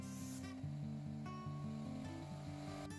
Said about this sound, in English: When using compressed air for this, there's a lot of sawdust and bar oil that's going to be flying around